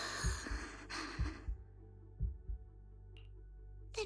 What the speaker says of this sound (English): Then what about my racing heartbeat?